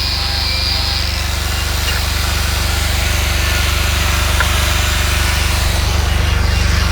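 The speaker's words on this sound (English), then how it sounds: "she's polishing up some horseshoes" Power tool polishing horseshoes at a canal festival, a loud, constant motor whine with grinding buzz running unbroken, close by and without talk.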